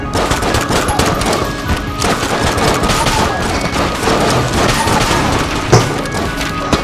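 Dense, continuous gunfire and booming blasts from shooting in the video game Enter the Gungeon, loud and overlapping without pause, with some faint voices underneath.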